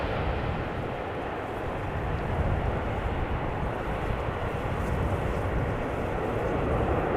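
A large airliner landing at Amsterdam Schiphol airport, a loud, continuous low roar of engines and rumble heard from outside, steady and broad throughout with slight swells, no talk.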